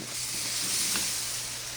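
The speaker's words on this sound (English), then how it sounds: "the chicken broth we made earlier, we're gonna just pour that in" Chicken broth is poured into a hot pan for pot roast gravy, making a short, even hiss and sizzle that swells briefly and then holds steady.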